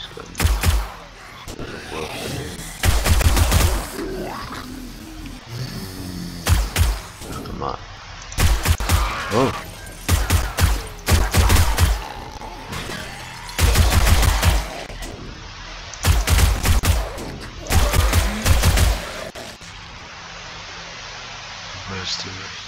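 Base guns fire in 7 Days to Die in a long run of loud bursts, some short and some rapid, with a few quieter pauses between them.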